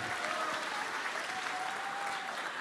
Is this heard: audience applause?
yes